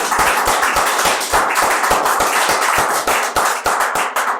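An audience at a Hindi poetry recital claps steadily and loudly, a dense continuous round of applause with no voices over it.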